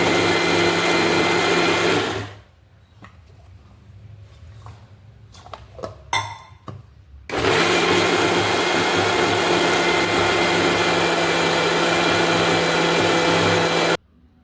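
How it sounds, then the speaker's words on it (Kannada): A mixer grinder whirs loudly as it grinds green chillies, ginger, salt and coriander leaves, running steadily, stopping briefly with a few clattering sounds, then running again at a sustained roar. "ಇದಕ್ಕೆ 3 ಹಸಿಮೆಣಸಿನ್ಕಾಯಿ, ಸ್ವಲ್ಪ ಶುಂಠಿ, ರುಚಿಗೆ ತಕ್ಕಷ್ಟು ಉಪ್ಪು, ಕೊತ್ತಂಬರಿ ಸೊಪ್ಪು ಹಾಕಿ ಗ್ರೈಂಡ್ ಮಾಡ್ಕೊಂಡು"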